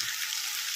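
Potato curry frying in a pan with spices, a steady soft sizzle and hiss running evenly throughout, fairly quiet, without voices.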